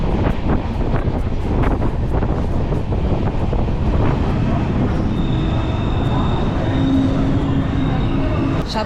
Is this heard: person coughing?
no